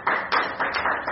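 A short burst of clapping from a small group at a Toastmasters meeting, with several quick claps in a brief, close-sounding stretch.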